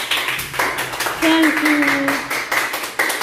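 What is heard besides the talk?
classroom children clapping for a pupil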